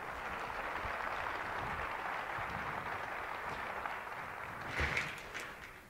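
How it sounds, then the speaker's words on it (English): Audience at an education congress applauding themselves, a steady wash of clapping held across the whole stretch, moderately distant, with a brief louder swell near the end. "Vous pouvez vous applaudir."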